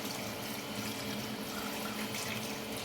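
Meat boiling water pours into a cooking pot with a continuous close rush of liquid, steady and unbroken throughout.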